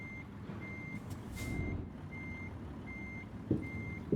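A truck in the Euro Truck Simulator 2 game gives steady, evenly spaced reversing beeps, about six in a row, over a low continuous engine rumble.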